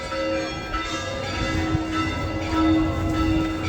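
A peal of church bells rings out continuously, their resonant tones layering and humming at a distance, heard from the Mount of Olives during the Orthodox Palm Sunday procession.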